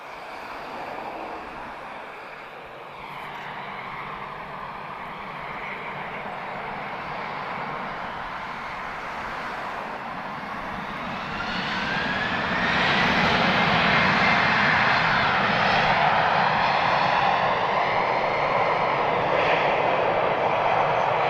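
An airliner takes off at Lisbon Airport, its engine roar building steadily from a distant rumble to a loud sustained thunder with no talk.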